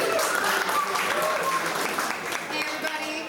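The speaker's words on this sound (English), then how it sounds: "Round of applause" An indie game marketing event audience applauds a speaker taking the stage, sustained clapping from a seated crowd with a few voices and chatter layered underneath.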